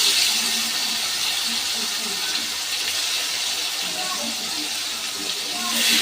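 Chopped tomato hits hot oil already spiced with whole cumin and bay leaf, giving a steady loud hissing sizzle that runs throughout and swells slightly at the end.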